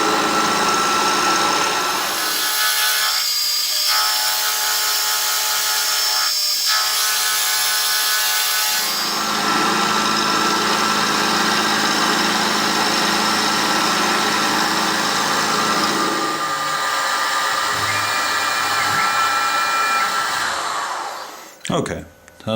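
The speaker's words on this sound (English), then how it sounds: "Now I'm going to turn this handvice around and machine this." Machining the second side of a steel handvice, a continuous loud whirring cut with a steady high tone that shifts in pitch and texture as the cut progresses, ending abruptly with a few clunks.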